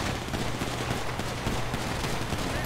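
Rapid gunfire in a GTA RP video game, bursts of shots crackling continuously at moderate distance over a busy background.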